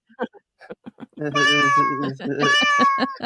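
A cat meows twice in long, drawn-out cries after a few short clipped sounds, loud and close.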